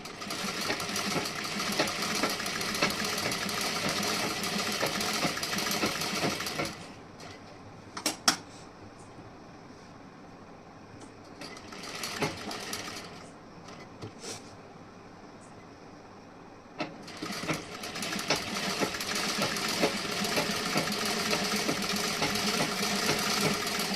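A sewing machine stitches fabric for a princess-cut blouse, running in long loud mechanical bursts broken by two short pauses with a few clicks.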